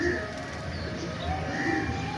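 Pigeons, fancy loft birds kept for flying, coo softly in a low rolling murmur under steady background noise, repeated calls blending together, fairly close but quiet, no talk.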